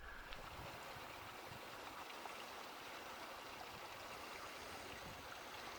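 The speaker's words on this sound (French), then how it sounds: "on a une petite cascade qui va nous permettre de remplir les bidons d'eau" A small Antarctic waterfall gives off a faint, steady, even rush of falling water, constant and hiss-like with no voices.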